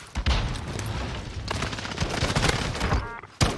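Warzone video game gunfire, a sustained loud fusillade of rapid shots and impacts lasting almost the whole clip, close and dense, ending with a sharp final burst after a brief dip.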